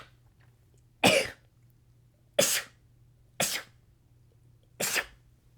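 A person sneezes four times in a row, each sneeze a short, sharp, close burst separated by brief pauses, over a quiet room with a faint low hum.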